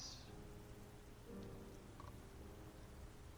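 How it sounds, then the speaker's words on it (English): Steady, faint rain falls outdoors near a shoreline, a soft continuous patter with no other sounds. "You just hear the sound of rain."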